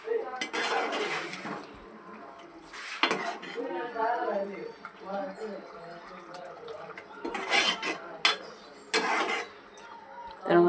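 Egg and tomato being mixed in a pan with a ridged gourd curry, giving repeated sharp metal spoon scrapes and clinks against the pan in irregular bursts, close and fairly quiet.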